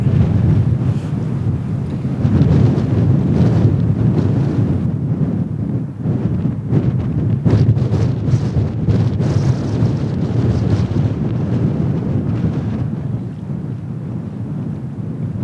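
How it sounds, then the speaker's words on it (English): Strong wind on an exposed Patagonian morning roars steadily into the microphone, a loud, continuous low buffeting that swells and gusts throughout with no voices. "Even with the wind actually kind of makes it feel more raw and like truly Patagonia here."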